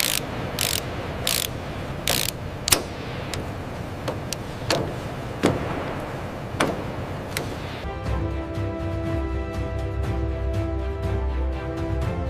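A fastening tool engages fasteners during Boeing 787 assembly on a factory floor: a run of sharp, spaced ratcheting clicks, then a steady mechanical whir with a tonal hum.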